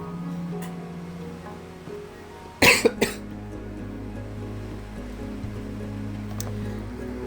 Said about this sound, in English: Excuse me about the coughing.